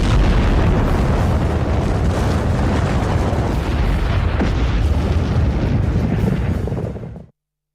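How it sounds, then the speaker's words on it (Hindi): An atomic bomb explosion from news footage, heard as a loud, sustained roaring blast rumble that fills the whole clip before cutting off abruptly near the end. "हिरोशिमा और नागासाकी में परमाणु बम का हमला"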